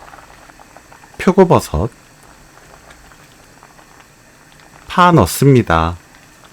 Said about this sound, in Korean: 물이 다시 끓어오르면